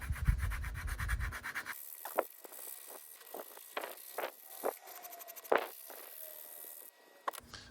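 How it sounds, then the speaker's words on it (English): Rough, scratchy strokes of a coarse sanding stick on light-curing putty rub back and forth in short bursts, about a dozen passes, close and fairly loud with quiet gaps between. "I'm gonna take a coarse sanding stick and just to see."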